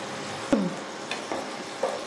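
Potato slices for chips frying in hot oil, a constant close sizzle with a few sharp stirring scrapes and clinks spread across the stretch, no voices.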